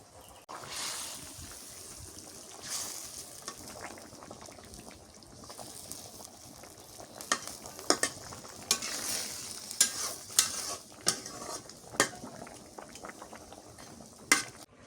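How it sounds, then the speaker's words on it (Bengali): Fried fish is stirred into a simmering curry of bottle gourd leaves, the pot bubbling and sizzling softly while a utensil scrapes and clacks against it in irregular bursts, growing busier toward the end. "শাকের তরকারি বড় হয়ে গেছে, মাছগুলো দিয়ে দিই, কষানো মাছগুলা।"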